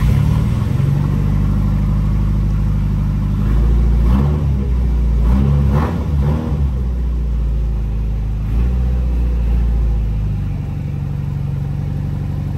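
A drift car's engine revs and idles while being maneuvered in snow, a loud continuous mid-range drone with several sharp throttle blips in the middle, close by and with no talk.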